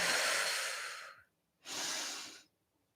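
Audible breathing during a Pilates twist in a full-body mat class, made up of two long breaths, a drawn-out airy exhale followed by a second slightly shorter one, close and clear with brief silence between.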